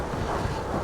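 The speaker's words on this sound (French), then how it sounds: "le vent, énorme" A strong wind buffets the microphone on an open hillside during a road-cycling ride, giving a steady, loud, low rumbling roar with no voices.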